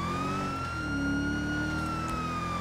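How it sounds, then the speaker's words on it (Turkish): A police car siren switched on in the video game GTA 5, a loud continuous wailing tone sustained throughout with a low engine rumble underneath, no talking. "Abi, abi sirenleri açar mısın?"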